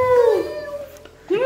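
A kitten meows twice up close, a drawn-out falling mew followed by the start of another, clear and fairly loud.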